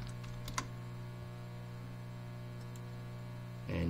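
Quick keystrokes on a computer keyboard, a few soft clicks early on over a steady background hum, with a louder patch of tapping at the very end.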